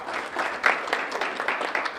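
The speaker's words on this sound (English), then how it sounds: "Please, my mentor, Dr. Ajrawat and Satyaji, please give them a round of applause." Crowd applause at a meet-and-greet with Mayor Ravi Bhalla, steady clapping from many hands, fairly loud and continuous for a couple of seconds.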